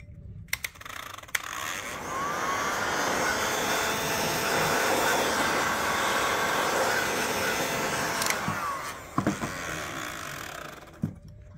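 A heat gun blows steadily on a Mazda 6 xenon HID headlight, a constant airy whir running for about eight seconds between brief clicks and handling knocks at the start and end, with no talking.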